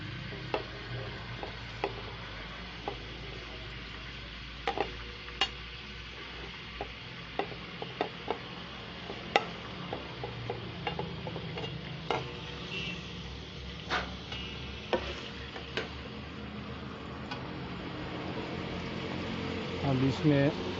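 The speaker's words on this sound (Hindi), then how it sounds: "इसमें फिर ये चिकन ऐड कर दो" Chicken pieces dropped into hot desi ghee for a chicken white handi, giving a steady sizzle with scattered clicks and scrapes of stirring throughout, a voice talking over the cooking.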